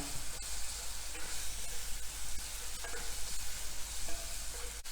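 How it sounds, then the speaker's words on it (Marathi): Chopped onion frying in hot oil with roasted green chillies for an inverted vada filling, a steady close sizzle with scattered stirring scrapes throughout and no talking. "मिरची चांगली भाजून झाली की त्यामध्ये आपण कांदा घालणार आहोत"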